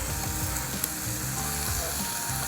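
American Wagyu beef frying in a pan outdoors, a steady close crackling sizzle throughout with a faint clink partway and no talk.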